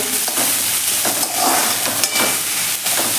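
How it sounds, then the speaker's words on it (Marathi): Mixed vegetables stir-fried on high flame in a pan for Manchow soup, a constant loud sizzle with repeated scraping and tossing strokes of a spatula, no talking. "हाय फ्लेमवरतीच आपल्याला हे सर्व परतून घ्यायचं आहे"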